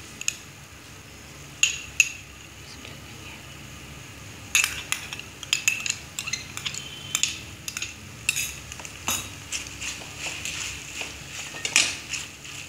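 Spoon scraping and clinking through macaroni with melting cheese in a pan, with irregular sharp metallic taps over a soft steady cooking hiss, close and fairly quiet.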